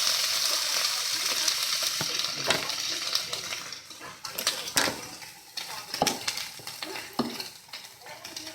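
Marinated Korean BBQ beef sizzles and fries in a pan, a steady hiss broken by clinks and scrapes of stirring utensils, close and moderately loud.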